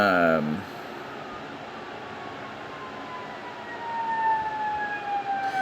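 A siren wails in the distance, a long rising and falling tone sustained under steady background noise, with a brief voice at the very start.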